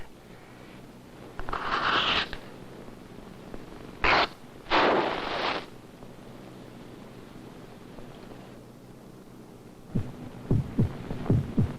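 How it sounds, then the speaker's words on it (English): A slow heartbeat thumps faintly near the end, a few soft double beats after scattered rustling and brief bursts of noise. "This is the sound of heart."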